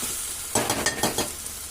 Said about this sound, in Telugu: అల్లం వెల్లుల్లిపాయ పేస్ట్ ఉంది కదా అది వేద్దాము వేసి ఒకసారి కలుపుకుంటున్నాము